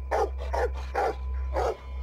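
A dog in the horror video game HeadHorse barks four times in a row, sharp and close, with short gaps between barks over a steady low hum.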